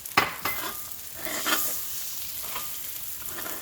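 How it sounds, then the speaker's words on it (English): Beaten egg sizzles and fries in hot oil in a pan while noodles are cooked for shrimp pad thai, with a steady crackling hiss and a few scraping stirs and clinks of a utensil. "So we're gonna add beaten egg."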